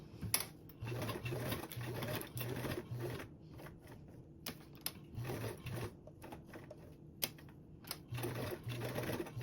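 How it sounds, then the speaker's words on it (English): Sewing machine stitching around the perimeter of a fabric sling strap with a narrow 1/8 inch seam, running in repeated short bursts of fast, even needle chatter separated by brief pauses. "we can sew around the perimeter with a 1/8 seam allowance."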